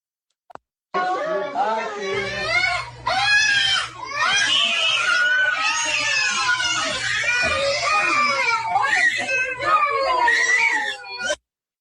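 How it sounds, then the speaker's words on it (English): Several children scream and cry in fear, loud and close, in long sustained wails that overlap and carry on for about ten seconds with only brief breaks. "just watch how these children start screaming, violently screaming, not just crying, not just sobbing, but literally screaming in fear."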